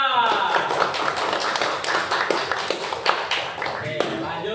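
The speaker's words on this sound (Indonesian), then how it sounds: "Oke, beli tepuk tangan kepada kelompok 3" Students in a classroom clap for a group of classmates. Fairly close, uneven clapping runs throughout, with scattered taps and thumps and voices chattering underneath.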